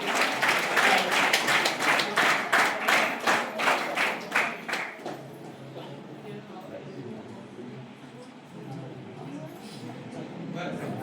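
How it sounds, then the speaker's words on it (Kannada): Audience at a school event clapping, a dense burst of loud applause for about five seconds that then fades to a low murmur of the crowd. "ಮತ್ತೆ ಇದೆಲ್ಲರ ಪ್ರೀತಿಯ ಅಭಿಮಾನದ ಜೋರಾದ ಚಪ್ಪಾಳೆಗಳು."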